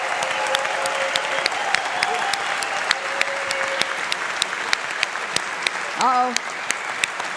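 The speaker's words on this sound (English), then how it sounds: "give them a massive round of applause for this incredible conference" A conference audience at WordCamp Europe 2023 applauds the organizers, a steady dense clapping that fills the hall throughout, with a brief spoken exclamation near the end.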